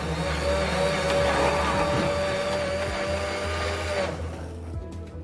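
A blender whirs loudly for about four seconds as it grinds 194 grams of seized methamphetamine mixed with water, then cuts off into a quieter room with a few knocks.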